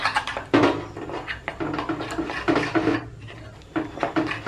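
Batter of beaten egg and spice paste for snail kebab being stirred in a bowl: steady scraping and clinking of a utensil against the dish in uneven strokes, close and fairly quiet, with brief pauses.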